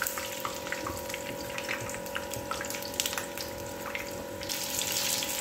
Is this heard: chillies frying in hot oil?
yes